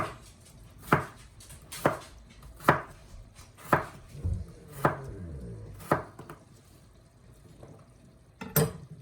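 Knife chopping potatoes into half-inch cubes on a cutting board for an Italian sausage and potato soup, about nine distinct evenly spaced chops at close range, each a sharp thud.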